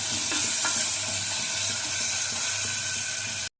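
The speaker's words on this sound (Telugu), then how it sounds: "ఇది హైలోనే వేయించుకోవాలండి" Mutton pieces fry on high heat for a tamarind-leaf mutton dish, a loud, continuous close sizzle with light stirring scrapes, cutting off abruptly at the end.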